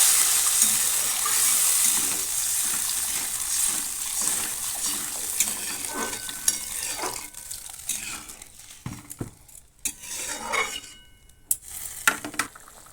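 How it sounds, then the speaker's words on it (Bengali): Curry of kohlrabi and potato bubbles in a pan, a soft steady simmering hiss that fades over time, with scattered pops and light utensil clicks nearby. "তরকারিটা ফুটছে"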